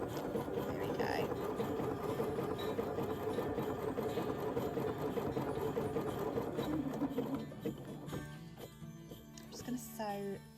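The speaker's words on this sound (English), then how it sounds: "I'm just going to sew the letter L so I can show you the effect of the blanket stitch" A sewing machine works a blanket stitch around an appliqué letter L on a stretch Christmas jumper, whirring steadily and close for most of the stretch, then slowing and easing off near the end, with music or talk underneath.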